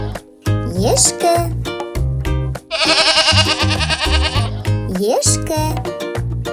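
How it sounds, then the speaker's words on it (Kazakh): A goat bleats in short, wavering calls near the start and end, over cheerful background music with a bright jingling passage in the middle. "Ешкі үй жануарына жатады."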